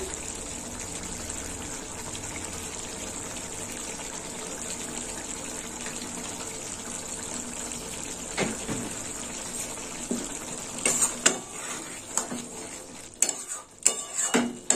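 Small mowrola fish sizzle in mustard oil in a pan as a steady close hiss and crackle, with louder spattering and clattering toward the end.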